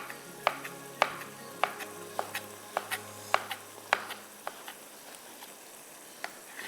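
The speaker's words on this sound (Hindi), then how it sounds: "एक टमाटर काट दिया, दूसरा भी काट देते हैं" A knife chops a tomato on a board in a home kitchen with a cooking show setting, a dozen crisp evenly spaced taps that slow and thin out, close and clear over a faint background hum.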